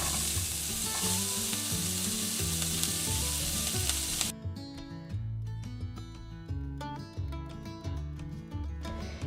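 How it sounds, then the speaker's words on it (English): Jalapeno peppers sauté in a pan for popper quesadillas, a steady loud sizzle with stirring, then the hiss cuts back and continues more softly with irregular crackles to the end. "I want to saute the jalapeno peppers"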